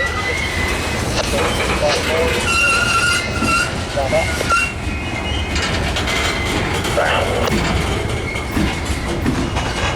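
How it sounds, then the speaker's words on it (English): A slow CSX coal freight train with ES44 locomotives, including a rear pusher, rumbles past nearby with steady clatter of wheels and occasional metallic squeals, loud and continuous throughout. "Train seems like it's got 1 million cars, but that's only because it's going this slow."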